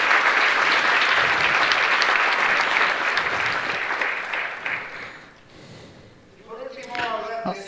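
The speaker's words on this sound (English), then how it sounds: "a round of applause, please." A diplomatic panel audience gives a sustained round of applause that stays dense and even for about five seconds, then thins and fades, with scattered voices and murmuring rising near the end.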